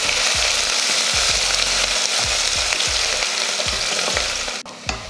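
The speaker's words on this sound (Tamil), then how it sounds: "வெங்காயம் பார்த்திங்கன்னா இந்த மாதிரி நல்லா பொன்னிறமாக வதங்கிருச்சு." Chopped shallots fry in oil with cinnamon and curry leaves for mutton curry, a loud steady sizzle broken by regular rhythmic stirring scrapes of a spoon against the pan, ending in a sharper clatter.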